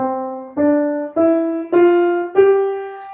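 Five separate piano notes rise one after another, each struck cleanly and cut off before the next begins, leaving small gaps between them.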